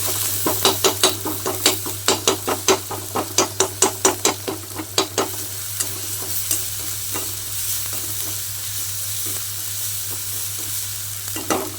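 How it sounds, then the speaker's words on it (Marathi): Wheat flour noodles get stirred in a pan, a quick run of rhythmic scraping and tapping strokes over a light sizzle, then a quieter steady frying hiss, close up with no talk. "थोडस मीठ टाकूया छान असा याला हलवून घेऊया अजून एकदा"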